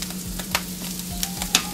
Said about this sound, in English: And pop in your garlic. Stir that around quickly.